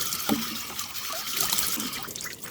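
Running water splashes and trickles close by while a stray dog is washed and cleaned after a rescue, an uneven wet patter with small gurgles and no talking.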